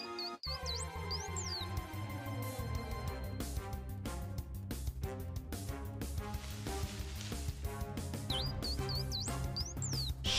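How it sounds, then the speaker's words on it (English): Shaymin, the hedgehog-like Pokémon from Pokémon Brilliant Diamond, gives its high, bird-like chirping cry in short warbling bursts at the start and again near the end, over looping game music that plays throughout. "Yeah, it sounds like a bird."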